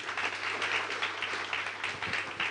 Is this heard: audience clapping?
yes